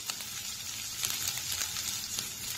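Ginger paste frying in hot oil gives a steady close sizzle with a bright hiss and small pops scattered throughout, continuous and even in loudness.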